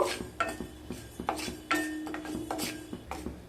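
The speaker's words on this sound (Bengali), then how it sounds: "মশলাগুলোকে শুকনো খোলায় ভেজে নেব।" Whole spices, radhuni, mustard seeds and panch phoron, are dry-roasted in a pan with a utensil stirring and scraping against the metal in quick repeated strokes, making clattering scrapes with light rattling, close up.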